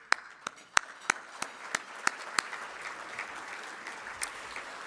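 Scattered applause at an annual business lunch: a modest crowd claps in a sparse, uneven patter of individual hand claps, fairly quiet and heard from a distance.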